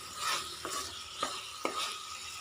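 Potato fry with coriander powder is stirred in a pan with a spoon, giving several sharp scraping strokes over a soft background sizzle, with no speech.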